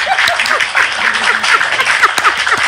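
A small crowd claps during a lively live session, a steady, close patter of hands running throughout with voices calling over it.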